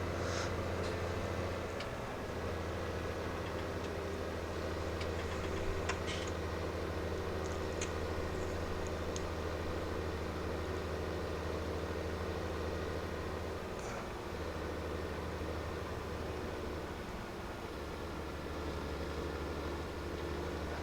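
Farm vehicle engine idling and running in the video game Farming Simulator 17, a steady low drone with a constant hum and faint mechanical clicks, continuous and even throughout.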